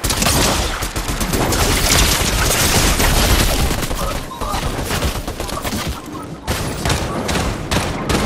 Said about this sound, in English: I say, I'm getting sniped at.